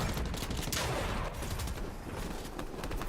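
Dense, loud gunfire from a Fortnite tournament match, with overlapping shots and a sharp crack standing out amid the continuous rattle of a firefight.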